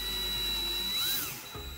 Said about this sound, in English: Just going to drill lightly